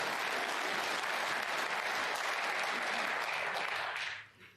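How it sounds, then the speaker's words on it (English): Snooker crowd at the 2023 Scottish Open semi-final between Gary Wilson and Zhou Yuelong applauds a recovery shot with steady, dense clapping that holds for about four seconds before quickly dying away. "The crowd appreciating that good recovery shot."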